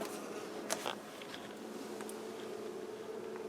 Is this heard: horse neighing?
no